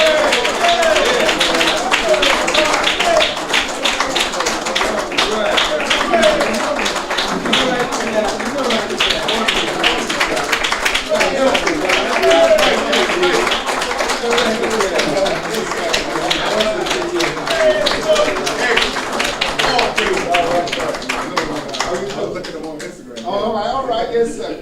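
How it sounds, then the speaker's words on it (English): An audience at a religious lecture gives a round of applause, a dense clapping that lasts about twenty seconds, with a voice speaking over part of it. "Let's give them a round of applause."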